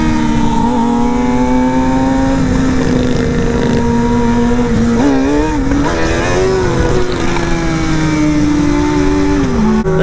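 A $1,200 Amazon Grom motorcycle engine revs hard and close during a wheelie, its pitch climbing, dipping and climbing again in loud sustained sweeps with no talk.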